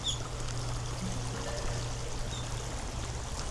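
A river flows beside a trekking path through a quiet, largely abandoned town near the sea, giving a steady, soft rushing wash with a low hum underneath and no voices.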